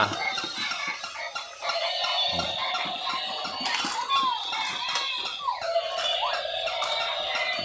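Electric toy dog that somersaults, giving repetitive mechanical whirring and high electronic yips in a regular rhythm, with someone talking over it.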